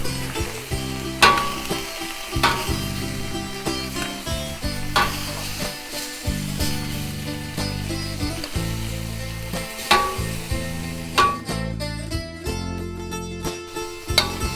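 Shrimp and bean sprouts stir-frying in a Chinese wok over medium fire, steady sizzling with repeated rhythmic scrapes and tosses of a spatula against the metal, close and clear with no talk.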